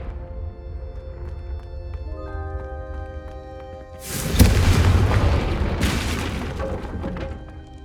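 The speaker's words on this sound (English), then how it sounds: "a Confringo cast travels a bit farther than that of a spell like Incendio" A Confringo fire spell explodes in the video game Hogwarts Legacy: a loud, booming blast bursts out after a quiet ambient stretch, then a second crackling burst follows and fades.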